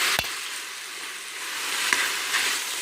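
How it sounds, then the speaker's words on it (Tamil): Tomato, onion and chili sauté in a pan for a chicken biryani, giving a steady bright hiss with a few sharp utensil taps against the pan. "நம்ம அது வரையும் நல்லா இந்த தக்காளி வெங்காயம் மிளகாய் எல்லாத்தையும் நல்லா வதக்கிப்போம்"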